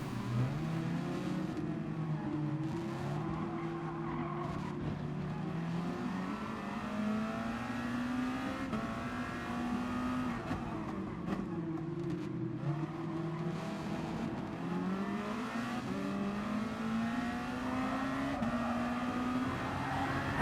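Race cars at the Interlagos circuit roar steadily in a continuous engine drone whose pitch sweeps up and down through gear changes and accelerations, loud and unbroken for the whole stretch, with no talking.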